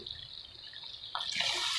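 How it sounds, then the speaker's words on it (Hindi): Water poured into a pan of arbi (taro root) that has been frying for some time, a steady splashing pour that grows louder toward the end, alone with no talk. "पानी ऐड कर दूँगी।"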